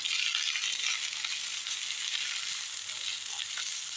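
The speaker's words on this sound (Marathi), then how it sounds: "आता आपण याच्यामध्ये कांदा घालून घेऊया कांदा थोडासा परतून झाला की टोमॅटो घालून घेऊया" Onion and tomato sautéing in a pan for shev bhaji: a steady, bright sizzle of frying runs continuously and close, with faint stirring underneath.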